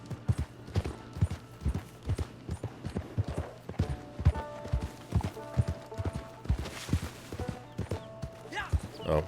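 Horse hooves clip-clop steadily in Red Dead Online, an even walking rhythm of sharp, close knocks across the whole stretch, with a player speaking faintly at times.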